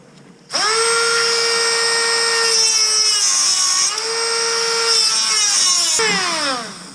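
A power tool, likely a cutter or grinder, whines steadily while trimming metal near the motor mount of a 5.7 Vortec swapped first-gen S10, its pitch dipping under load, then spinning down after about six seconds; no talk.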